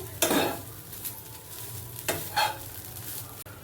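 Coconut filling for fried pulipitha being stirred in a pan: scraping strokes of a utensil against the pan over a steady low sizzle of frying, close and clear, with no voices.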